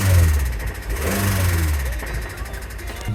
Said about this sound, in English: I could hear a weird knocking noise that I know is pretty common with these cars too.